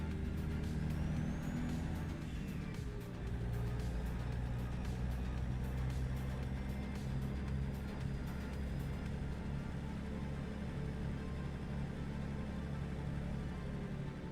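A loud truck engine drones steadily in the American Truck Simulator game, a constant low rumble with faint road noise over fourteen seconds, quiet overall and without talk.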